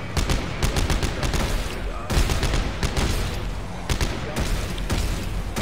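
Dead Space 3 video game gunfire crackles in dense, rapid bursts, loud and close and nearly continuous, with brief gaps between volleys.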